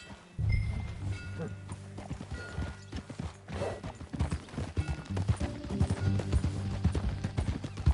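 Horse hooves clip-clop at a steady trot in Red Dead Redemption 2, alongside faint mechanical clicks and rattles, growing more rhythmic and distinct toward the end.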